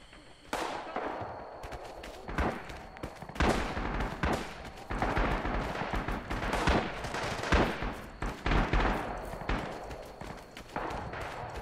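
Gunfire and heavy explosions in the Rising Storm war game, repeated loud blasts and rattling bursts through the whole stretch, some booming mortar-like impacts among them, with no talk.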